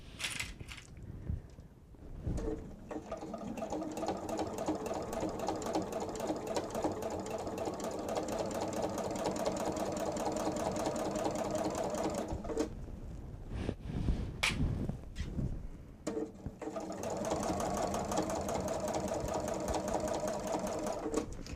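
A sewing machine stitching across a leather-style wallet, running steadily in long rapid bursts with brief pauses between runs, close and clear with no talking.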